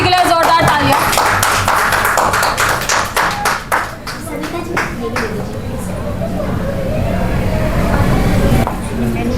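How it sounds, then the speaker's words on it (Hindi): Clapping for Poonam ji at the grand finale of the Bundeli Chef 02 cooking competition in Bundelkhand: a burst of hand claps mixed with crowd babble and light tapping, loud and close, with voices carrying over it. "एक बार फिर से पूनम जी के लिए जोरदार तालियां।"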